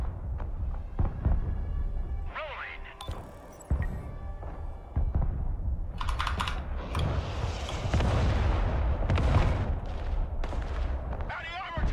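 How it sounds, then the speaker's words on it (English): Airstrike explosions in the war game Broken Arrow, heavy booms and rumbling blasts that layer into a dense barrage, with gunfire crackling and voices speaking over the din. "Calling airstrike on the left."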